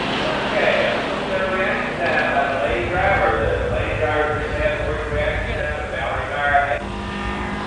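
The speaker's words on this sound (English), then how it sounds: "And once again, Valerie gets out of the gate first" Muscle cars, including a Dodge Charger, launch side by side in a concours-class drag race, their engines roaring and droning under loud, continuous commentary from an announcer.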